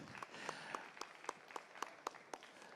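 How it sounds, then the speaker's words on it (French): Sparse, faint clapping from a small conference audience welcoming panelists, individual claps standing out in a loose rhythm over a quiet room murmur. "Oui, on peut les applaudir, s'il vous plaît"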